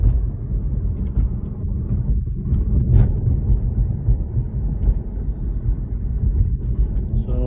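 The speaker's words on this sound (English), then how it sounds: "I'm going to drive over as many bumps as I can." BMW i3 electric car driving over a series of road bumps, heard from inside as a steady low rumble with occasional thumps and rattles throughout.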